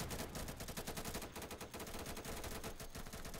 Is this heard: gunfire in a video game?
yes